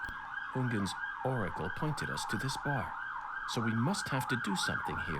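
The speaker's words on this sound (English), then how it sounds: "Sorry about the sirens." Wailing emergency vehicle sirens sweep up and down continuously outside on a London street, loud and layered, with a voice speaking over them.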